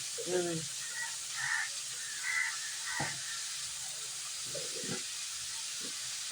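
Ingredients sauté in a pan for a village-style masala that goes with spicy rice and fish kuzhambu, giving a steady broad hiss throughout while voices speak intermittently over it.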